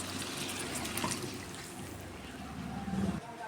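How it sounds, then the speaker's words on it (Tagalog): Water pours from a glass into a pan of cooking ground pork, a soft gurgling trickle heard faintly against background kitchen noise. "O kaya lagyan natin ng sa basong tubig muna."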